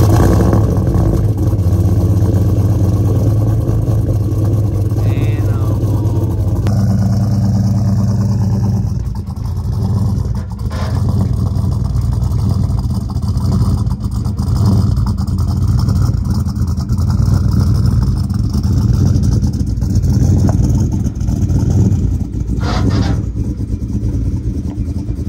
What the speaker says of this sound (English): we about to get us cold start